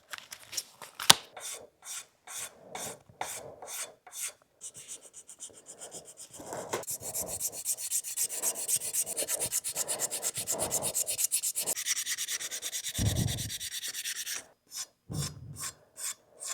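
Sanding a chef knife handle with 400 grit sandpaper, carved to an even butt profile: a run of separate rasping strokes, then a long stretch of continuous rubbing, then short strokes again, close and moderately loud with no talk.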